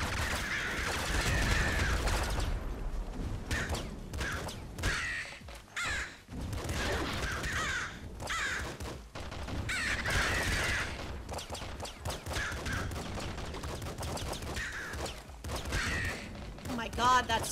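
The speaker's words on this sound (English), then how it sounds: "God, that's so many birds!" Crows caw in the video game Nuclear Throne, harsh repeated calls mixed with gunfire bursts and thumps throughout a busy stretch of play, while someone talks over much of it.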